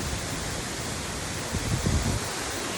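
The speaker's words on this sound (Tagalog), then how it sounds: "makahugyaw ang Barangay Monterico Waterfalls. Madulas Waterfalls." Madulas Waterfalls in Barangay Monterico pours in a constant, dense rushing roar, steady and enveloping from nearby, with a few faint low thumps partway through.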